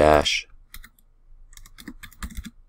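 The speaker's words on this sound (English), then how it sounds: "all you do is type sudo su, and then just type proxidize" A short burst of computer keyboard typing as a command is entered on a Raspberry Pi, following a brief spoken word; scattered crisp key clicks, some isolated and some in quick clusters, close and moderately loud.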